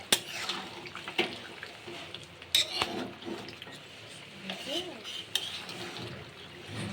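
Spice masala with chicken and potatoes is sautéed with a little water, bringing wet bubbling, occasional clinks of a utensil against the pot and scraping stirs, fairly faint with some background voices.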